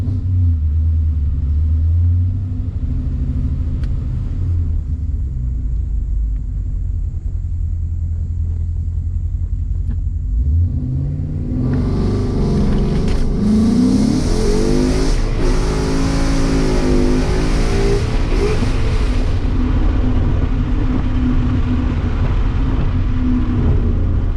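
Ford Mustang with a stock MT-82 manual gearbox making dig launch runs: a loud idle rumble, then a hard rev and launch with rising engine tone from about twelve seconds, close and continuous.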